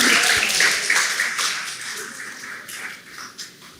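An audience at a medical expo panel discussion applauds to welcome a speaker, a dense patter of many hands that starts loud and slowly tapers off over a few seconds.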